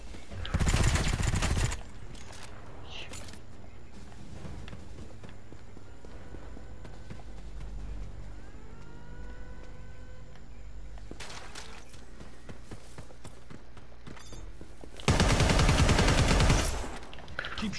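Gunfire in the Predator video game erupts in two loud sustained bursts, one at the start and one near the end, with quieter footsteps and ambient game noise in between.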